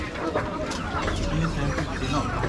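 Chickens clucking at the Diphu market, a mix of scattered bird calls under busy crowd chatter and general market bustle nearby.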